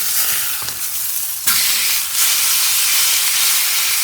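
Steak sears hard in a hot pan, a loud continuous sizzle and hiss that briefly jumps as the meat is flipped over, with no talking.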